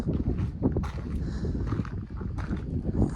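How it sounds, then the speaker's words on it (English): Strong gusts buffet the microphone at a building site where a garage shop extension is being framed, heavy low-pitched rumbling and thumping throughout, loud and continuous. "it's super windy"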